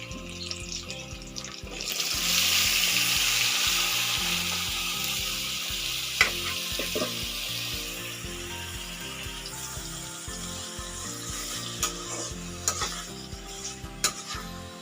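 Onions, green chillies and chopped tomatoes frying in oil and being stirred for tomato rice: a steady close sizzle with repeated scraping stirs and occasional spoon clinks against the pan, no voices.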